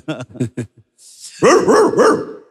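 A voice imitates a dog, giving a short run of about three loud, close barks right after a brief burst of talk and a breathy rush.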